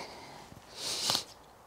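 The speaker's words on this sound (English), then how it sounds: "excuse me sniffing, it's cold" A quick, soft sniff through the nose in cold weather, close and fairly quiet against faint outdoor background noise near a car park.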